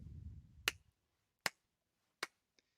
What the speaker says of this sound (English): This is slow clap.